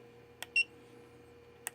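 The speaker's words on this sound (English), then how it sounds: "Sorry about the beeping. That's got to be annoying." Short electronic beeps from a radio transmitter while its AKK Rx module menu is navigated: a few sharp, isolated bleeps spaced irregularly over a quiet, humming background.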